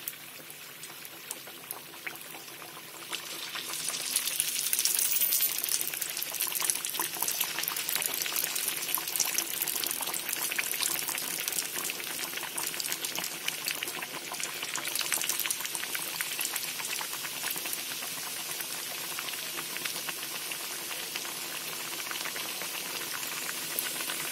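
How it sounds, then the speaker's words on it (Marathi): Puris sliding into hot oil one by one set off a rushing, bubbling sizzle that swells after a few seconds and then holds loud and steady, with no talking. "आता हे सर्व पुऱ्या आहेत ना हे सर्व तळून घेते"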